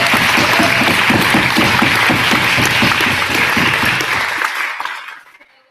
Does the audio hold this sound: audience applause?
yes